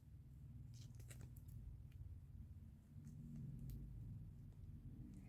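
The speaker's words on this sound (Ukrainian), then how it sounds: "там у нас чомусь машини роз'їхались, там всякі мотоцикли і це все їздить зараз" Cars and motorcycles driving along the street outside, heard indoors as a faint, steady low rumble of distant traffic with a slight swell midway and no distinct passing vehicle.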